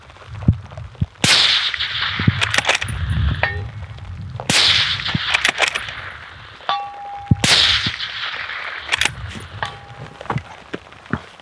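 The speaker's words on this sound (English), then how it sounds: "I'm gonna shoot that gun real quick." Three loud, sharp Steyr SSGM1 sniper rifle gunshots at an outdoor range, each a hard crack with a ringing tail, followed by faint metallic clangs and pings of distant steel target impacts.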